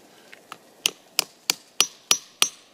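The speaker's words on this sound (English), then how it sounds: "you can tell when it's seated because the hammer will bounce off the spile" A hammer tapping a plastic spile into a maple tree to tap it for sap, eight sharp wooden knocks in a steady rhythm, growing louder and crisper as the spile seats, close and alone.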